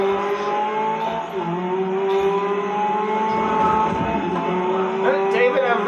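Ginetta GT race cars roar through a GRID Legends Ginetta Cup race, with a steady high-pitched engine drone that rises and falls as the cars push together, close up and loud throughout.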